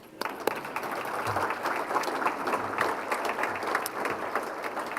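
Audience applause fills a dinner event, a steady wash of many hands clapping at moderate loudness that holds evenly throughout.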